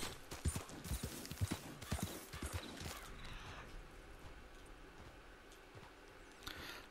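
Horse hooves clip-clop in Red Dead Redemption 2, a quick run of crisp hoof strikes that slows and thins out into quieter steps over ambient background.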